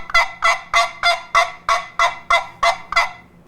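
Turkey call imitating a hen turkey's yelp, a run of ten even, evenly spaced nasal yelps at steady rhythm, close and fairly loud with nothing else heard.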